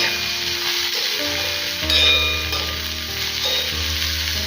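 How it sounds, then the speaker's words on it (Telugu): Sliced ridge gourd hitting a pan of already fried onions, sizzling steadily with a brief louder surge as it is stirred in, close and continuous with no talking. "ఉల్లిపాయలు చక్కగా ఫ్రై అయిపోయినాయి కదా ఇప్పుడు నేతి బీరకాయలని యాడ్ చేసేసుకుందాము ఇప్పుడు వీటిని బాగా మిక్స్ చేసుకోవాలి"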